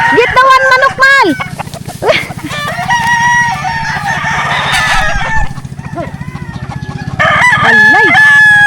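Several of Papa's chickens crow and cluck nearby in loud, overlapping bursts, while people talk and shout excitedly over the birds.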